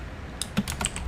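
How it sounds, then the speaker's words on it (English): Someone types a Linux command on a computer keyboard: a quick run of four or five close, crisp key clicks spread across about a second, with quiet gaps between them. "So I'm going to type in"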